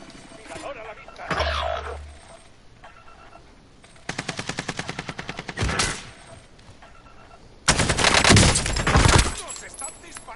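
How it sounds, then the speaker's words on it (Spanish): Warzone video game gunfire in bursts: a rapid, evenly spaced automatic volley in the middle and a louder, denser barrage near the end, with quieter game sounds in the gaps between. "¡Nos están disparando!"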